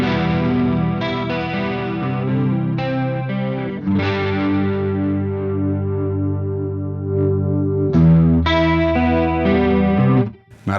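Guitar played through an amp's clean channel with a chorus pedal switched on, producing shimmering, sustained chords and single notes with a gentle wavering modulation, steady and fairly loud before fading out near the end.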